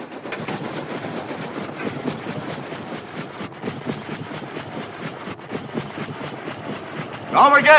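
A train rolls past on the railway with a steady rhythmic clatter of wheels over rail joints, fairly close and sustained, with a brief louder burst at the very end.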